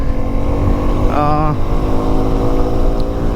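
Suzuki V-Strom SX 250 motorcycle engine revving loud and close as it pulls under acceleration, with a rising harmonic sweep partway through over steady wind rush; no speech, though an onboard rider's voice may be faintly mixed in.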